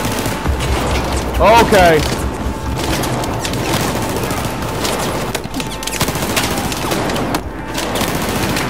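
Battlefield 4 gunfire in the Kunlun Mountains crackles in steady, dense bursts and rapid automatic fire throughout, with louder near shots around the middle, while a player talks over the action.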